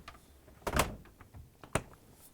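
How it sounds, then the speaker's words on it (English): Two French doors on an LG refrigerator shut in turn, a heavier thump near the start and a sharper close about a second later, near and fairly loud in a quiet room. "Now I'm going to close the French doors out of the way."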